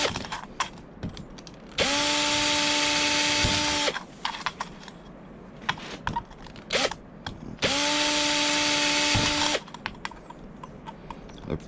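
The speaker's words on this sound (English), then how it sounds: "come around the outside rim, drill hole, come to the exact opposite side of the can, drill hole" A power drill bores holes into a metal can for a homemade penny stove, in two loud bursts of about two seconds each with a steady whine, separated by quieter handling clicks and taps.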